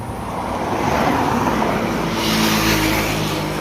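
Idling engine of a truck with a 6R10 engine, a loud steady low rumble with a broad noisy wash that swells slightly partway through, with no talking.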